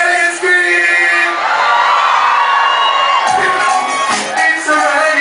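A live concert crowd at a 2010 Serani show at Mondial screams, whoops and cheers loudly and continuously, with high-pitched shrieks layered over a dense roar that stays strong throughout.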